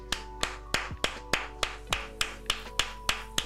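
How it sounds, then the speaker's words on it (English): Steady hand clapping: about a dozen crisp, evenly spaced claps at a moderate tempo, close and fairly loud, with no talking. "I'm just gonna clap it up"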